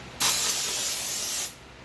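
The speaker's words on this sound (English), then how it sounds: "You're just going to take some brake cleaner, a clean cloth. You're just going to spray it down" A steady spray of brake cleaner aerosol hisses loudly for just over a second, starting abruptly and cutting off, close by with no talking.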